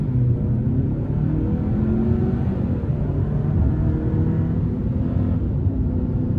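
A 2024 Hyundai Santa Cruz XRT AWD pickup with the 2.5-liter turbo engine accelerates hard onto an interstate in sport mode, its steady engine drone and road rumble filling the cabin without pause.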